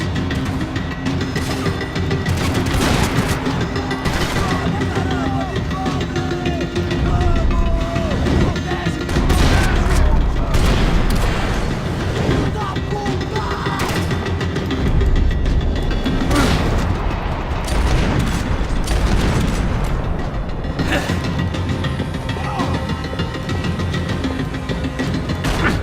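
Shotgun blasts and bursts of gunfire in the video game Max Payne 3, dense and loud throughout, with heavy booms and crashes layered under ongoing game action.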